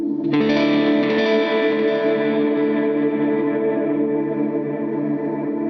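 Electric guitar played through a Line 6 HX Stomp preset with heavy reverb: a single strummed chord rings out and sustains with a wide, washy tail, loud and unaccompanied.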